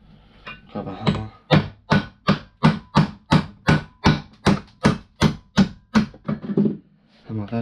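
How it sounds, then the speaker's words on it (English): A hammer strikes a part of a scrapped desk fan, about fifteen loud, sharp metallic blows in a quick, even rhythm, close up, with a few lighter knocks before and after. "Hammer that down."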